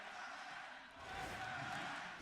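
An arena crowd at a Valorant Masters Madrid lower final between Sentinels and PRX roars in a broad, distant wash of cheering that swells and grows louder toward the end, with no clear voices standing out.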